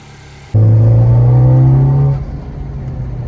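A 2.0T Honda Accord engine with a PRL V2 high-volume intake starts and idles with a loud, steady drone and a strong low hum, then settles to a quieter, even rumble.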